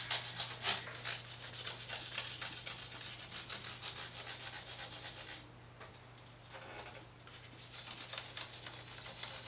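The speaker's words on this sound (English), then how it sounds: "A little bit of 1000 grit." Fine 1000-grit sandpaper rubs back and forth over the sharp fret ends of a Squier guitar neck, a steady, close scratchy sanding with a brief pause partway through and a low constant hum beneath.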